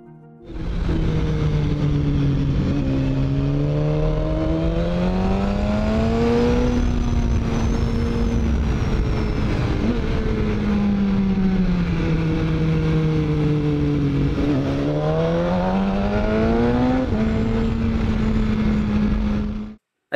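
A BMW S1000RR motorcycle is ridden hard on local roads, its engine droning steadily and loud as the pitch rises and falls through shifts and throttle changes over about twenty seconds, with no voices.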